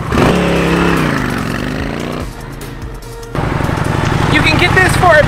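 A 2022 Honda Shadow Phantom cruiser motorcycle engine runs with a steady, deep, throbbing drone. It dips briefly, then returns to a fuller rumble, close and fairly loud.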